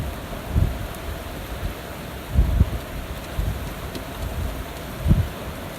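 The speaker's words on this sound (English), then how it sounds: "There's a bit of wind coming up now." Wind gusting at a beach buffets the microphone in uneven low rumbles, with several stronger bursts over a steady airy hiss; no one speaks.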